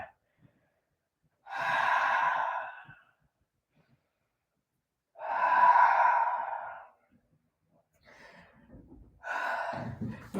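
Deep, slow breaths during a yoga class, with long airy exhales repeating every few seconds close to the microphone and silence between them.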